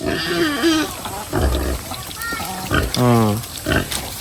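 Pigs, sows and piglets, on a farm give repeated squeals, grunts and oinks at close range, rising and falling in uneven bursts, with people talking faintly in the background.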